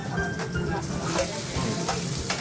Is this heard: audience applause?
no